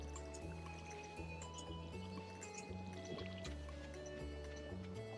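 Crops are watered in the farming video game Stardew Valley, giving soft splashing, pouring and dripping sounds. The water is quiet and sits under steady background game music.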